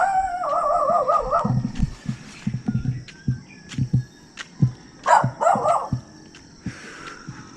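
A dog barks repeatedly outdoors on a rocky, gravel-covered trail, with several loud, close barks in uneven bursts, the last few clustered together, alongside footsteps and other background sounds.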